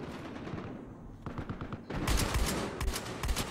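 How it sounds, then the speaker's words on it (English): Gunshots in the multiplayer shooter Battlefield Hardline ring out close and loud, a burst of sharp cracks in the second half over earlier fainter shots and ambient game noise. "I just hear shots, and they sound like they're coming from right next to me"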